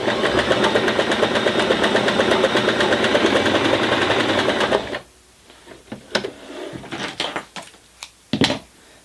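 A beginner sewing machine stitches a zigzag in a loud, steady, rapid mechanical whir for about five seconds, then stops, followed by scattered clicks and handling sounds.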